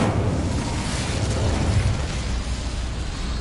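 Incendio fire spell cast in Hogwarts Legacy on PS5, a sustained roaring, crackling burst of flame that stays loud and steady without pause.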